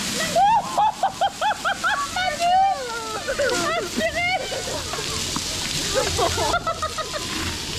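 Large water bucket dumping onto people at Universal Studios Florida, a rushing splash and sloshing spray under loud excited voices and shrieks, water noise continuing after the talk.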